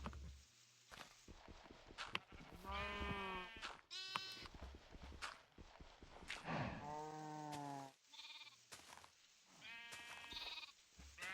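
Sheep in a video game bleat repeatedly with wavering, nasal cries spread across several seconds, mixed with soft footstep thuds and clicks, and no one talking over them.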